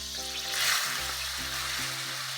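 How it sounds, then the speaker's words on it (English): Onions going into melted butter in a risotto pan give a soft, steady sizzle that swells briefly near the start, then settles into a quiet, even hiss under a low background hum. "All the butter is melted and I'm going to add my onions now."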